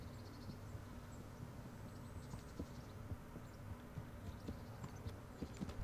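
Steady clip-clop of horse hooves walking in the medieval game Kingdom Come: Deliverance, an even plodding rhythm over a constant low ambient rumble, with no talk.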